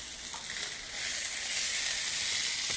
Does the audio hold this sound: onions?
yes